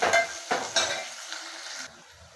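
Onions frying in a pan of oil while cooking chicken masala tikka, with a few close metallic clinks and scrapes of a spoon stirring against the pan over a soft sizzle, then fading to a quiet hiss.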